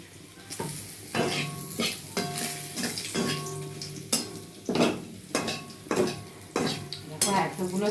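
Papad frying in a generous amount of oil in a pan, with crackling sizzle and repeated scraping and clinking of a utensil against the pan in an uneven rhythm.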